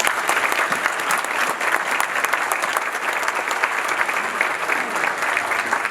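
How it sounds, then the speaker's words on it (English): Steady, sustained audience applause fills a banquet hall at a chamber of commerce annual meeting, dense clapping holding at an even level for the whole stretch with no talk over it. "So big round of applause for all those people."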